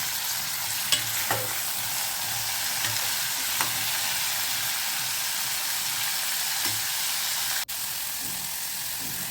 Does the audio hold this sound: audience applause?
no